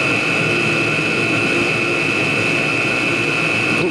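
Chinese diesel heater burning HV46 hydraulic oil instead of diesel, running as a loud, steady roar of combustion and fan noise with a constant high whine on top, unchanging throughout.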